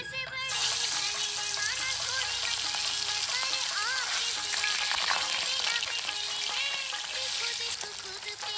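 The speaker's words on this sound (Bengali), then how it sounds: "তেলটা গরম হয়ে গেছে, এখন আমি একটা করে মাছ ভেজে নেব" Hilsa fish fry in hot oil for a Bengali eggplant curry, a loud, dense sizzle crackling continuously from the first moment, with faint scraping underneath.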